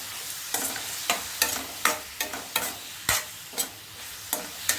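Tomatoes frying in a pan with a series of short scraping stir strokes every half second or so over a light sizzle, close and clear, with no talking.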